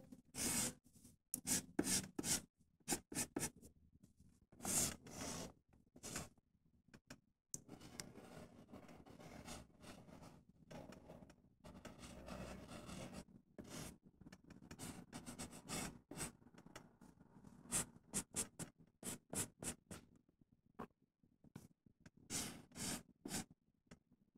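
Plants drawn on paper with a pencil or marker, heard as close, quiet repeated rubbing and scratching strokes in short irregular bursts with brief pauses between them.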